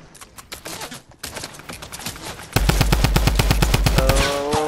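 Gunfire crackles in a Fortnite match, starting as scattered sharp shots and then becoming a dense, loud, rapid string of shots.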